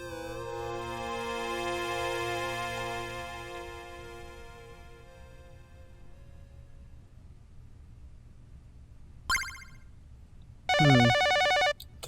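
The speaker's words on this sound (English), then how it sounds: "The phone's ringing." Electronic telephone ringing in the YU-NO visual novel, a steady harmonic ring tone sounding over a low background hum, then breaking into short louder ring bursts near the end, with no one talking.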